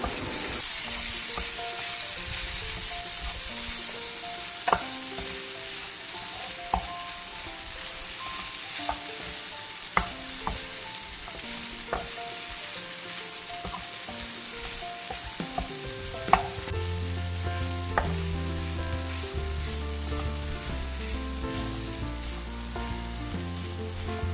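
Crumbled paneer bhurji fries with a steady loud sizzle in a pan, stirred with sharp intermittent utensil clicks and scrapes against the metal; background music plays underneath.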